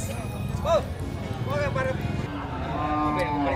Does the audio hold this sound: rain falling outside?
no